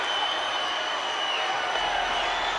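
Wrestling crowd at WrestleMania 9 cheering on their feet during Hacksaw Duggan's match with Yokozuna, a steady, loud wash of cheers and applause with no individual voices standing out.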